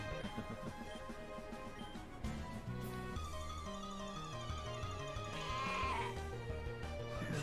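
A sheep Pokémon in Pokémon Uranium gives a bleating cry over steady, quiet in-game background music.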